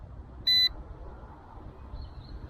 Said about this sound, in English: Got a beeping noise,